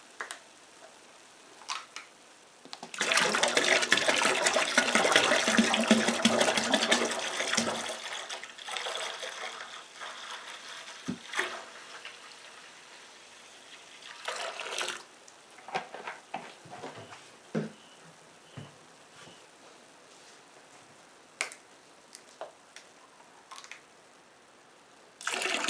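Regular apple juice pours steadily into a container for a caramel apple pie moonshine batch, a splashing flow of several seconds followed by quieter trickles and drips.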